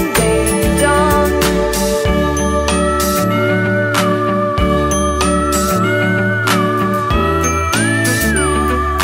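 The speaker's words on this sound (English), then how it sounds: "Morning bells are ringing. Ding, ding, dong." Bright bell-like chimes ring repeatedly through a busy, steady children's nursery-rhyme tune, the Brother John morning-bells song, with a bouncy bass line underneath and no speaking voices.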